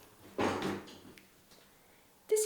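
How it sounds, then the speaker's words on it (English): An old bathroom door being closed nearby, a soft swinging sweep and bump followed by small creaks and clicks, then a sharper latch sound at the end, fairly quiet in a still room. "So if I close the door"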